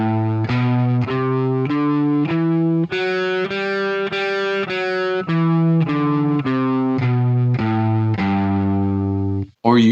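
Electric guitar with distortion and chorus effects playing a major scale note by note, repeating the top octave before coming back down, each note distinct and sustained, close and loud, with no talking.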